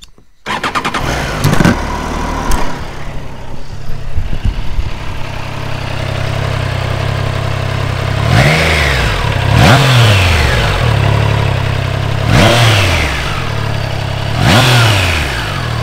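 A 2021 Triumph Trident 660 three-cylinder motorcycle starts up, settles into a steady idle, then gives several sharp throttle blips that rise and fall, close and loud, with no talking.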